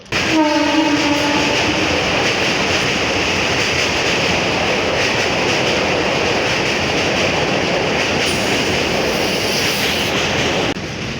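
A train roars past close by, its brief horn at the start giving way to a loud, continuous rush of wheels and carriages.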